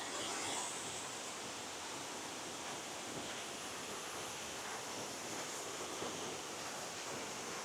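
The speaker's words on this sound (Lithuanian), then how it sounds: "Atėjom prie to krioklio" A mountain waterfall in Vietnam roars as a steady, dense wash of water noise, unbroken and even for several seconds with no voices.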